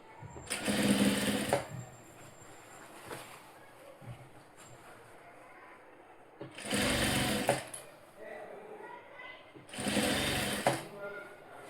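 An electric sewing machine stitching a blouse runs in three loud bursts of rapid mechanical whirring and clatter, separated by quieter pauses where someone speaks.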